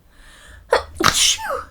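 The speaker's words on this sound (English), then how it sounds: "I'm gonna sneeze." A single loud, close hay fever sneeze with a sharp intake of breath followed by an explosive burst, standing alone.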